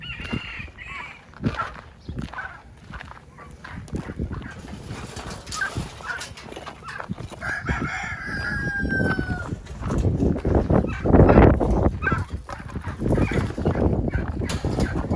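Neighbours' chickens clucking and calling near an outdoor bird enclosure, scattered fowl cries with a crow-like call midway, over rustling and handling noise that grows louder toward the end.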